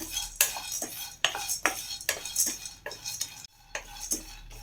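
Pumpkin seeds, about 100 grams, roasted in a pan over a medium flame and stirred, giving repeated close scraping and rattling strokes of a utensil against the pan in an irregular rhythm, with no talk.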